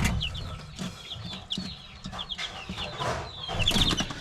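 Three-week-old chicks cheep in a pen with repeated high, thin peeps close by. Lower rustling and shuffling noises run under them throughout.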